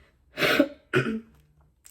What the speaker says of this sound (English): I apologize for my coughing or throat clearing